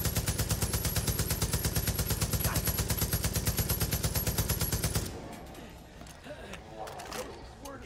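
Light machine gun fire in Far Cry 5, a fast continuous burst of loud rapid shots that runs for about five seconds and then cuts off, leaving quieter game ambience and scattered sounds.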